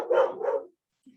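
Dogs bark at the postman in two quick, loud, close outbursts, then fall silent, with a faint trace near the end.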